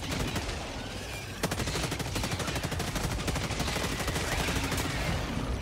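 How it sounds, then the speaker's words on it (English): Full-auto laser machine gun fire from the Las-16 Sickle in Helldivers 2: a dense, continuous stream of rapid shots, loud and steady across the whole stretch, with a brief gap early on before the firing resumes. "That's like a little full auto charger machine gun."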